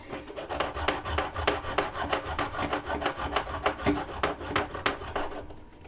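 A hand file rasps across a piece of scrap metal in steady back-and-forth strokes, close and fairly loud, about three strokes per second with no talking.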